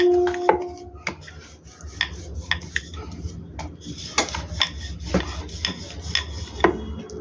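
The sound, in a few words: kachori dough being rolled out with a rolling pin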